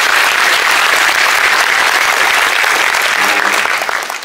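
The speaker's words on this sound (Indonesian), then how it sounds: "Beri tepuk tangan untuk Pak Dubes." Loud, dense applause from a large audience greeting an ambassador at a gathering in Jordan. The clapping is continuous and close, and starts to thin out toward the end.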